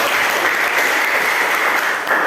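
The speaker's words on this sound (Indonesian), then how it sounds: "beri tepuk tangan untuk kita" Dense, steady applause from an audience at an open class session, a continuous wash of clapping hands with no voices standing out, holding level for a couple of seconds.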